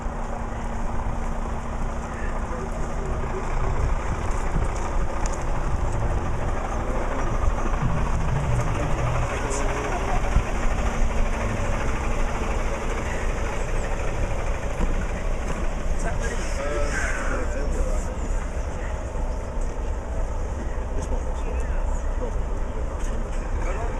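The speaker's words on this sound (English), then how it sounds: "Guiding the truck up to Horse Hill." A truck's engine rumbles steadily near the Horse Hill fracking site, a continuous loud low drone with outdoor noise and people talking over it.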